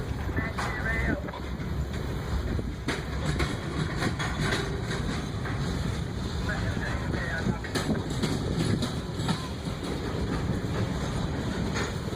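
A freight locomotive with its train backs slowly into a rail yard past a switch, giving a continuous rumbling, rolling wagon noise with scattered squeals and clanks, heard at moderate distance with wind buffeting the microphone.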